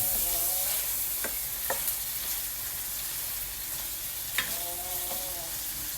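Onions sauté in a pan for burong isda, a steady close hiss of frying with a few spoon scrapes and knocks while stirring, no talking.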